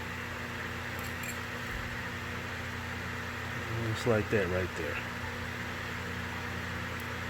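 Electric fan running steadily in a home garage during a Honda Accord oil change, a constant low broadband whir with a faint hum, mid-level and continuous, with someone speaking briefly over it.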